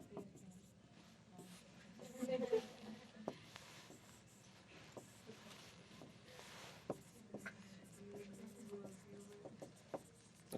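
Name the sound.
writing notes by hand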